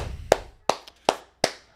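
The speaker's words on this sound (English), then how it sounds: "Clap it up. Everybody clap it up." Four crisp, close hand claps land at an even pace with brief gaps of silence between them, a celebratory clap-along for Shilo Sanders joining the Buccaneers.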